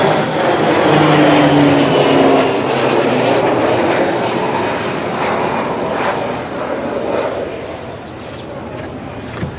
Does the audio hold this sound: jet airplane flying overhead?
yes